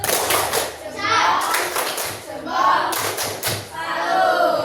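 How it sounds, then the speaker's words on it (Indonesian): Schoolchildren in a classroom doing a tepuk salut cheer: a few quick bursts of group hand claps mixed with children's voices chanting along. "Kita berikan tepuk salut."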